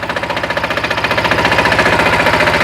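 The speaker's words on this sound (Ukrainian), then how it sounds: "наскільки зручно вже працювати з мотоблоком" A WEIMA DELUXE walk-behind tractor engine runs loud and close with a fast, steady chugging pulse and heavy vibration, no voices.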